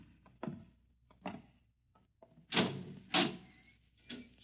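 A door in an old science-fiction radio drama opens inside a pitch-dark, double-walled wooden and steel silo, heard as a few soft thumps and then two louder bursts of creaking and knocking close by, with no talk.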